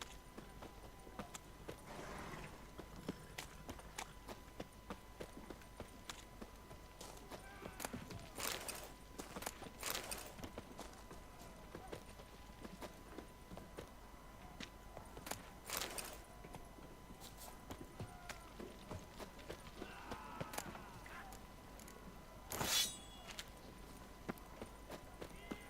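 Horse hooves clip-clop along a road in The Witcher 3: Wild Hunt, a steady walking rhythm at moderate distance mixed with game ambience and a few sharp transient noises.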